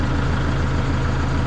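A brand-new generator engine running on its first try, a steady low droning hum with a dense, even rumble and no pauses or voices.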